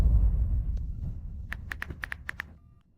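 A quick series of short electronic beeps, about eight in a row, like keys pressed on a phone keypad, following a low rumble.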